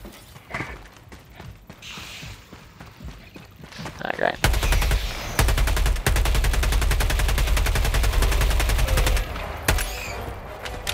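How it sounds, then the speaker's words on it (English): Sustained automatic machine gun fire in the video game Helldivers 2 rattles loud and close in a long rapid burst, preceded by scattered mechanical clicks and shots. "I come with ammo for my machine gun."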